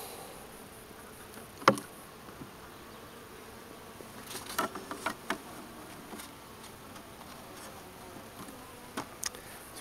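Sick honeybees at an opened hive give a faint, thin buzz with a few sharper passes of individual bees flying close, and no one speaks.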